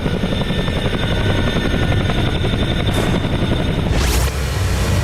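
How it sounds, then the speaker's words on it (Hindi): A Chinook tandem-rotor military transport helicopter, loud and close, giving a continuous thudding rotor roar with rhythmic blade beats throughout, no speech. "ये एक टैंडम रोटर वाला हेलीकॉप्टर है"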